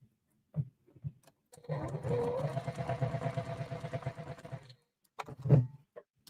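Sewing machine stitching fabric during a holiday gameboard sew-along, a steady mechanical whir with a rapid needle rhythm running for about three seconds, preceded and followed by brief clicks and handling noises.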